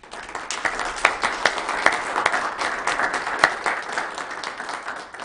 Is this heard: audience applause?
yes